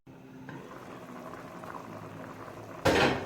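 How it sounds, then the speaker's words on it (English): Rice and peas simmer in a covered pot, a soft steady bubbling close by, with a louder burst of boiling or lid noise near the end. "I'm gonna cover the pot and allow the peas to finish cooking"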